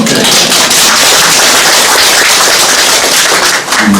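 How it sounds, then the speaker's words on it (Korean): Audience applause at a mayor's annual neighbourhood policy briefing in Inseong-dong, a loud, dense, steady roar of many hands clapping close by, sustained for about four seconds with no talking. "우리 고맙다고 박수 한번 주세요"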